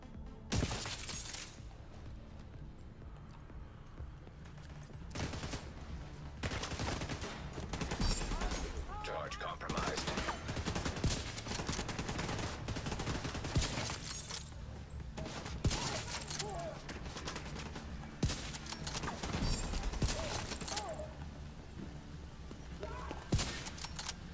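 Model 700 bolt-action rifle fire in The Division 2, loud cracking shots and heavy bursts of combat noise recurring through the whole stretch, mixed with other gunfire and impacts, with a voice talking over the action.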